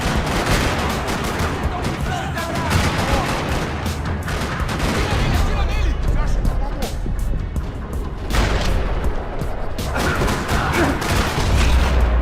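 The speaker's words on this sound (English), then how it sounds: "Another parking lot rattling with gunfire." Dense, sustained gunfire rattles across a parking lot in Max Payne 3, with overlapping bursts and booms running continuously throughout.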